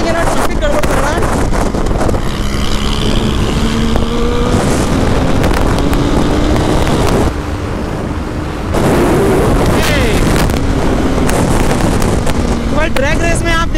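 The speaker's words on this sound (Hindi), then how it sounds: "ड्रैग रेस में आप देख रहे हैं किस तरह से भूसा बहुत आसानी से इस बाइक को पीछे छोड़ रही है 390 को" Suzuki Hayabusa and KTM Duke 390 motorcycles drag racing on a road with traffic, engines revving and rising in pitch through the gears under heavy wind buffeting, loud and close, with a short lull in the middle.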